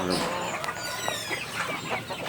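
Native heritage chickens cluck and chatter close by in a farm setting, with overlapping short calls and a voice heard faintly in the background.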